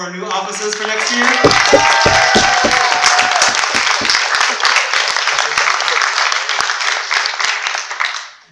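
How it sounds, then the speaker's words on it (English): Applause from the audience at a high school thespian induction and cabaret show, dense clapping that swells quickly, holds steady for several seconds, then fades out at the end. "Another round of applause for our new officers for next year"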